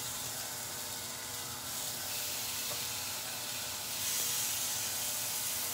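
Steady, quiet sizzling of chicken frying on a hot grill, a continuous crackling hiss with no voices.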